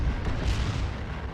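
A Fire Prism tank blowing up in Dawn of War 2 during a 3v3 match, one heavy, rumbling blast that lingers briefly in a battle din.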